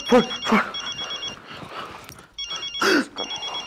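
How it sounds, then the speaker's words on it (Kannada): A telephone rings in repeated electronic bursts during a domestic comedy scene, loud and close, with voices talking over and between the rings. "ಫೋನ್"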